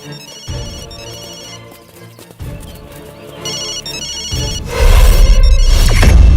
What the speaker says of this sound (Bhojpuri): यहाँ से घंटी का आवाज आवता।